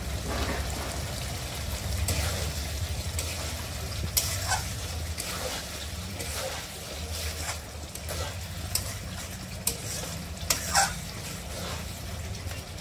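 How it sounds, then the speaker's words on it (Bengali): Water poured into a pan of egg and potato curry with spices, stirred; a continuous low sizzle and bubbling with scraping stir strokes and occasional clinks, moderately close, no talk. "এখন দিয়ে দেবো জল।"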